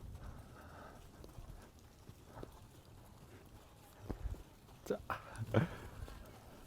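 Horse hooves clip-clop during a first-time horse ride, with soft steps building to a few louder, closer hoof strikes near the end, under scattered talk and excited voices.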